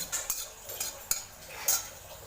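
Rice being dry-roasted in a pan for a Maharashtrian masvadi curry, stirred with a utensil: a few sharp clinks and scrapes of metal against the pan stand out over a faint continuous rustle of grains, close and alone.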